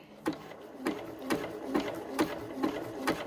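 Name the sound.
sewing machine backstitching mushroom applique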